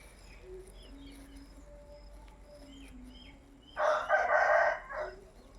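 Soft, sparse clucking from chickens, then a loud rooster crow rings out near the end.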